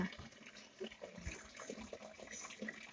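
Water runs steadily from a household tap with splashing and gurgling, fairly close, no voices.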